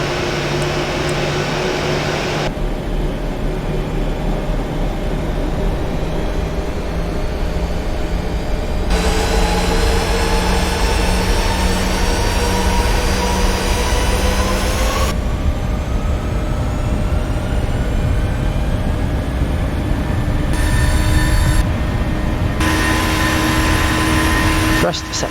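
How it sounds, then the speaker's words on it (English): A Norwegian Boeing 737-800NG in the Prepar3D simulator spooling to takeoff thrust, a loud steady jet roar with rising whine and shifting tones, heard from the cockpit, with voices talking over it. "Set takeoff thrust."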